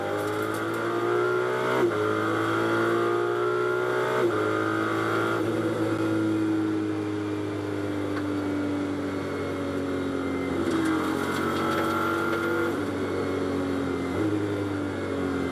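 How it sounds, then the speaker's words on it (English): A GT race car engine heard from on board during a race at the Nürburgring, a steady loud drone with shifting pitch and occasional gear changes, no talking. "I could hear the engine sounded okay."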